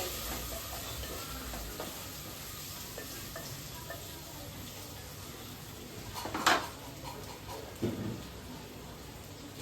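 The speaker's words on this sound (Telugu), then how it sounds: "ఇప్పుడు వంకాయలు వేసుకోవాలి వంకాయలు మంచిగా నూనెలో మంచిగా మగ్గించుకోవాలి" Brinjals fry and soften in oil in a pan with onions, a steady soft sizzle running throughout, marked by a couple of louder clatters from stirring, close and without voices.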